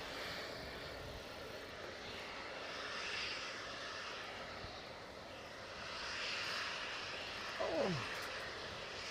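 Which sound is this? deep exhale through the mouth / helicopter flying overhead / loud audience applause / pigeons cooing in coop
helicopter flying overhead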